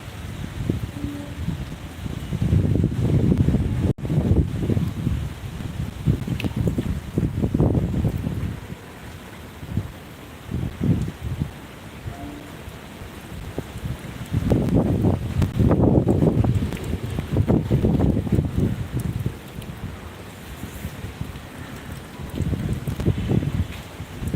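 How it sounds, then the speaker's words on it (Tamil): Gusts from Cyclone Fengal sway the trees outside, surging in loud waves and easing between them, with no talk. "நல்லா காற்றுல மரம்லாம் ஆட ஆரம்பிச்சிடுச்சு"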